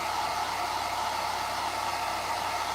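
A hair dryer blows steadily to dry red paint, a close, constant whooshing roar with a low hum underneath that does not change across the whole stretch.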